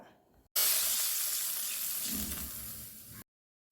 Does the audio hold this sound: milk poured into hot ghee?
yes